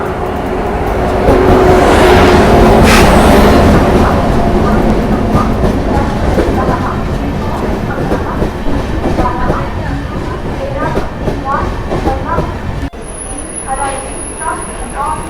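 Deccan Express train pulling into Dadar station in Mumbai: a loud, continuous rumble with clattering wheels and rail noise close by, rising then easing, with voices on the platform.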